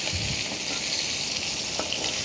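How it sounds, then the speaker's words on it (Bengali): A few pieces of fish fry in hot oil in a pan in a modest home kitchen, giving a steady close sizzle and crackle with the occasional louder pop. "মাছ রান্না করছে আপনারা দেখতে পাচ্ছেন কয়েক টুকরো মাছ কত সুন্দর করে"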